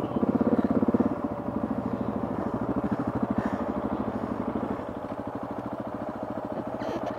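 Dirt motorcycle engine chugging in mud, a close, rough, rapidly pulsing mid-pitched putter that holds steady throughout with slight dips in loudness, no talk over it.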